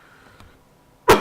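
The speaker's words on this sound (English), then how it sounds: "I'm having a bit of a coughing fit." A single sharp cough bursts out near the end after a near-silent stretch, loud and close.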